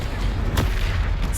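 Confringo fire spell blasting in the Hogwarts Legacy video game on PC, a sharp explosive burst rising out of a dense, rumbling battle soundscape.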